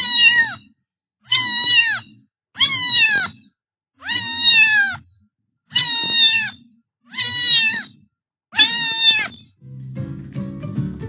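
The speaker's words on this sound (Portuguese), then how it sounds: "O miado do gato tem um som agudo." A cat meows seven times in a steady, evenly spaced series, each call loud, close and high-pitched, with short silent gaps between them and a brief soft noise at the end.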